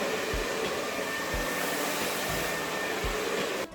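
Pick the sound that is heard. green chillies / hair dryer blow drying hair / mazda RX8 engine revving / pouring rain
hair dryer blow drying hair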